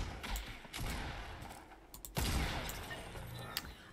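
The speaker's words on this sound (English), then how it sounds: "Where are the shots coming from?" Gunfire in the video game Fortnite, a burst of sharp shots followed by heavy crackling blasts and rattling, loud and dense across the span with no talk.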